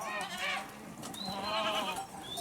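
Honamli goats and kids on a farm bleating in overlapping high wavering cries, several animals calling close by in quick succession.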